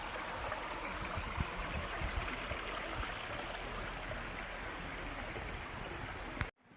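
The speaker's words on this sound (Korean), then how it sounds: "물소리도 들어보세요" A mountain stream rushes steadily through an autumn valley on Yongmunsan, a constant broadband wash of flowing water heard close and alone before it cuts off abruptly near the end.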